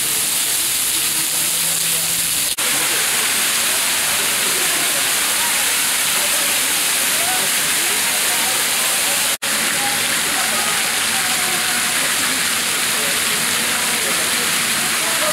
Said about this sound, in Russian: а вот из тех форсунок вдали льется кипяток